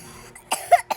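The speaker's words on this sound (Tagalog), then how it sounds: "May ubo din ako." A person who is ill coughs in three quick, sharp bursts, close and loud, after a brief quiet pause.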